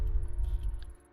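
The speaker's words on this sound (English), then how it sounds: "Earthquake." A deep, low rumble from an earthquake in the video game Tokyo Dark, fading out after about a second, with a faint high electronic whine above it.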